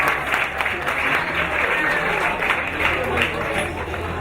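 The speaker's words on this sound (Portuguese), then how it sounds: "Uma salva de palmas para a Manuela." Audience at a talk in Ribeirão Preto applauding, a dense, steady round of clapping from a crowd, fairly close, with some voices mixed in.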